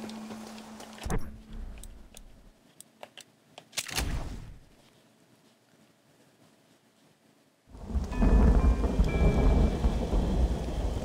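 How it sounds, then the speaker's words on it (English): Rain and thunder in the Red Dead Redemption video game, with a few sharp thunder cracks and quiet rain patter, then a loud, heavy downpour roaring in near the end. "Now it's raining on me"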